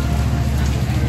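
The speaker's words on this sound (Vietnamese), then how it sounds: "Mưa quá." Heavy downpour drenching a group of motorcyclists, a loud, dense and unbroken roar of rain striking surfaces close by.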